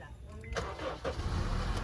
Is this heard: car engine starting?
yes